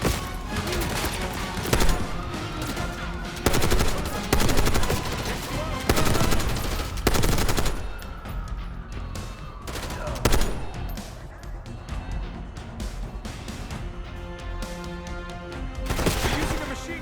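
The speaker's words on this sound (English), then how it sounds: "Using a machine gun." Sustained machine gun fire in Call of Duty Black Ops 6, dense rapid bursts with loud sharp reports, layered with other gunfire and game sounds across the whole stretch.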